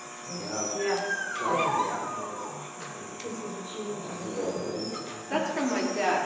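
A dog whimpers and yelps in pain from a plant's vibration noise, high thin cries rising and falling over several seconds, heard as a somewhat distant recording with background noise.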